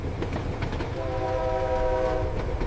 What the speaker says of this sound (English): Trains run relentlessly through the night, connecting the remotest corners.